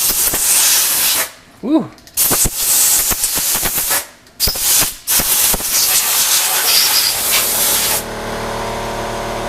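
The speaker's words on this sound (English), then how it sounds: "Sorry about the air compressor." An air compressor blows coolant out of the holes of a cheap CNC vise on a Tormach 1100MX. Loud hissing bursts of air are broken by short pauses, with a brief exclamation from a voice.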